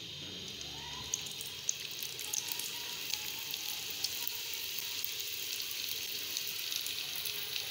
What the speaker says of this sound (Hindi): ऑयल भी गर्म हो चुका है, तो अब मैं इनको जल्दी से फ्राई कर लेती हूँ